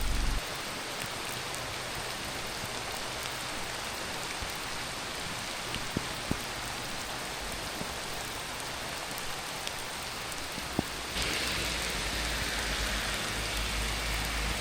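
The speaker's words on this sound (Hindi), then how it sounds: "मेरी आवाज़ से बेहतर है इस बारिश की आवाज़ सुने।" Steady, dense monsoon rain pours down nearby on a forested road in Azad Kashmir, a continuous hiss with scattered drips, growing slightly louder near the end.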